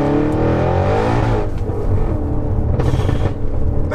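An 820 BHP methanol-injected Audi RS6 drives on normal roads, its engine a steady, deep rumble from inside the car with a short surge of acceleration toward the end, loud and close, with no talk.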